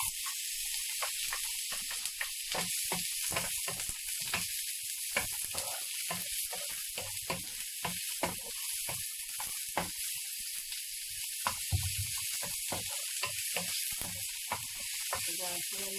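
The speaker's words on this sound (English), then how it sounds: "I need to fry tomato first." Tomato and onion frying in a pan, a steady bright sizzle and hiss running throughout with small crackling pops, fairly faint.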